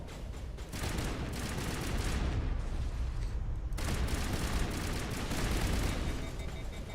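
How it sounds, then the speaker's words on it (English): Assault rifle fire in Mass Effect rattles almost without pause for seven seconds, a dense, loud stream of shots with only a brief dip partway through and no voices. "we're gonna stick with the assault rifle"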